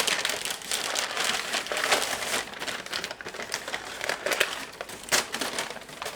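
Smoked chuck roast pulled from its wrap, with crinkly, crackling rustles of paper or foil in irregular bursts, close and fairly loud, with no talking.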